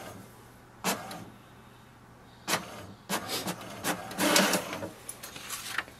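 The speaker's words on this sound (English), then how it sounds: "Wait for the printer to print out the sheet." An HP DeskJet 2732 inkjet printer prints a sheet, with short mechanical bursts and whirs from the carriage and paper feed starting and stopping, then a busier stretch of rapid clicking and feeding toward the end.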